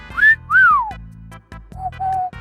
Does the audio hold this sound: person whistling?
yes